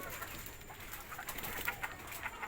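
Pigeons in a coop give soft, low coos in a quiet, continuous murmur with a few slightly louder calls.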